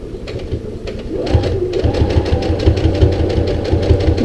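A Brother CE1100 sewing machine motor runs steadily through a reverse stitch, a loud, close mechanical whir with a rapid repetitive needle chatter that starts softer and settles into an even, continuous rhythm.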